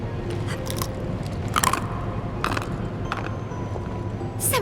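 Crunchy biting and chewing of beans in Final Fantasy VII Remake Intergrade, a series of short crisp crunches over a steady game background with no talk.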